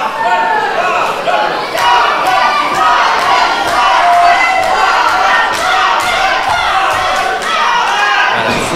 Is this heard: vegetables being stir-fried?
no